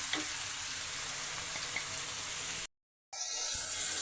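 Onions frying in oil with spices added, a steady bright sizzle that holds evenly, cut by a brief drop to silence before resuming.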